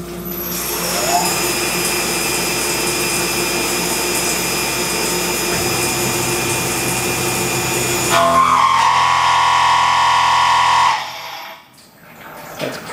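A Tormach PCNC1100 CNC mill takes a 1 mm cut, its spindle giving a loud, steady, whining machining roar that shifts to a harsher tone near the end before cutting out abruptly.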